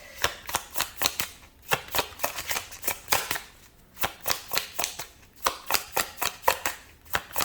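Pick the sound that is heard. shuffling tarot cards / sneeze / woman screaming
shuffling tarot cards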